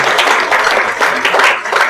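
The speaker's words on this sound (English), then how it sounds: "let's just applaud his participation" Panel-discussion audience applauding a departing participant, a dense burst of clapping filling the room, loud and steady with slight swells, no voice over it.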